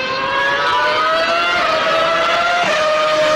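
Racing karts, motorcycles and cars at a racetrack in Antioquia, with a loud, steady engine whine and rising tonal drone that shifts pitch near the end, sounding close and continuous.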